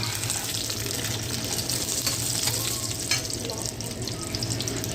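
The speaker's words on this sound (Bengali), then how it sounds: "এবার সর্ষে বাটা জলটা দিয়ে দেব।" Mustard paste water poured into a pan of frying boris (lentil dumplings), a continuous hissing sizzle and watery splash held steady throughout at close range.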